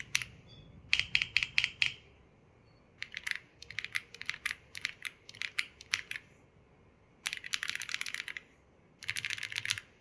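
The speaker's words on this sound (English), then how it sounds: "Here is a 15-second typing test, so you can listen to know how it sounds while typing." Clicky Graywood switches on an Aula F99 keyboard rattle out in quick, close bursts of keystrokes, pausing briefly between flurries, with no talking over them.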